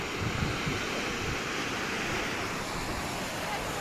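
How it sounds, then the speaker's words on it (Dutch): Sea waves breaking against rocks along a coast, heard as a steady, close wash of broadband surf with a light rumble throughout, no voices over it. "De zee, die zo een beetje tegen de rotsen aanslaat."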